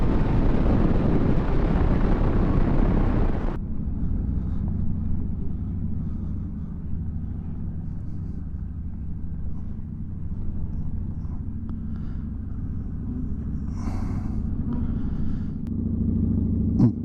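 A 2023 Zero DSR electric motorcycle at full throttle gives a loud, rushing wind-and-motor roar for a few seconds, then drops to a steady low rumble as the ride continues.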